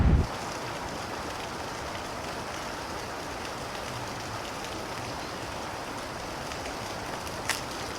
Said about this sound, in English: with the sound of the river as well, it's perfect